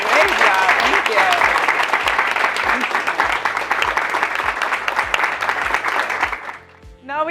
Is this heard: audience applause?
yes